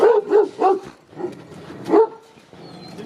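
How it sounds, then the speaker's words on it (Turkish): A Kangal dog at a breeding yard barks a few times in close range, three or four deep, rough woofs with a whiny edge, spaced irregularly over a low background. "Şu köpeğe bir yakınlaşalım"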